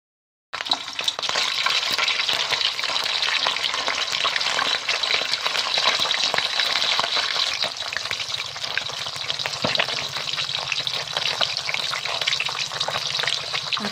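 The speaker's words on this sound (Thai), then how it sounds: "ตั้งกระทะเทน้ำมันลงไปเนาะเดี๋ยวป้าจะเอาปลาทูมาทอดก่อนนะเจ้า" Mackerel frying in hot oil in a pan gives off a continuous, close crackling sizzle that starts abruptly after a brief silence and keeps bubbling evenly to the end.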